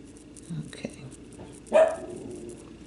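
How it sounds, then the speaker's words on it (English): A pet dog barks at a closed bedroom door, wanting in: a few muffled barks from another room, one sharp and louder near the end, over faint indoor background. "My dog is barking because she wants to come in to my room."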